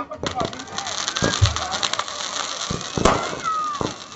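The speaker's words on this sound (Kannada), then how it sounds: "ಪಟಾಕಿ ನೋಡಿ ಆನಂದಿಸೋಣ." Fireworks at a district police annual games closing ceremony, heard as several sharp bangs and crackles scattered through a busy outdoor crowd, with voices and chatter continuing underneath.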